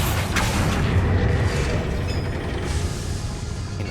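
A Bombarda spell explosion in the video game Hogwarts Legacy: a loud, dense booming rumble that starts with a sharp burst and rolls on for several seconds before slowly easing off.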